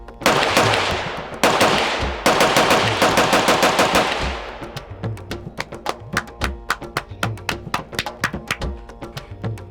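Gunfire on a film set, loud close bursts of rapid automatic shots in dense sustained volleys at first, then thinning into a steady rhythm of separate sharp cracks with slight echo.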